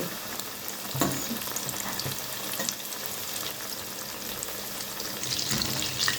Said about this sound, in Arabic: الزيت قدح معانا، ونحط